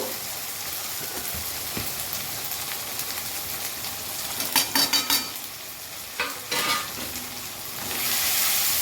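Marinated mutton stir-frying in a pan with a little salt and turmeric, a steady sizzle with bursts of spatula scraping and stirring near the end, close up and without voices.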